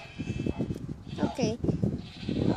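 A sheep in the video game Minecraft gives a short wavering bleat amid a speaking voice, heard clearly in the middle of the talk.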